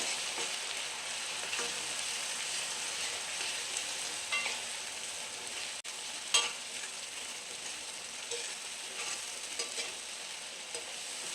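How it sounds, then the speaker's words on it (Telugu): Onion-chili paste fries in oil while being stirred, giving a steady close sizzle with occasional scrapes and knocks of the spoon against the pan and no voices. "ఈ ఆయిల్ అంతా ఈ ఉల్లికారంలో పట్టేటట్టు కలుపుకోవాలి"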